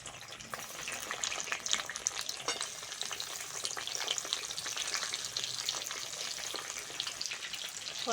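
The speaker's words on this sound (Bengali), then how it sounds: "ধরে গেছে সর্ষের তেল দিয়ে দেবো ওই তেলের মধ্যে বেগুনগুলো ভেজে নেব" Eggplant pieces fry in mustard oil with a bright, crackling sizzle that holds steady, and light stirring scrapes and clinks sound close by.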